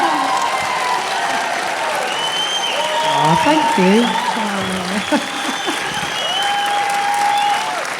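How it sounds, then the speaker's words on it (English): An audience at a film festival Q&A in Hebden Bridge applauds throughout with steady, dense clapping, while a voice speaks briefly over it. "Round of applause."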